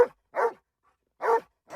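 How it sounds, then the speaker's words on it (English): A trained search dog giving a focused bark alert, three loud, close barks evenly spaced with silence between them. "they're trained to do what's called a focused bark alert, where they will sit here and bark, bark, bark, bark, bark"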